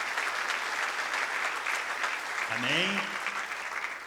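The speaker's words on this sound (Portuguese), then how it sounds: "Vamos aplaudir nosso querido amigo." A church congregation applauds a guest, a state deputy, with a sustained wash of clapping from a crowd of hands; a voice speaks briefly over the applause near the end.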